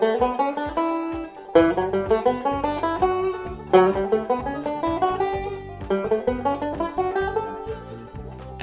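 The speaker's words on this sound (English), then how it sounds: "The second exercise will be a simple ascending 9-note scale." Banjo picking an ascending nine-note scale exercise, bright plucked notes rising in steady repeated runs, each phrase restarting with a strong attack, close and clear with no talking.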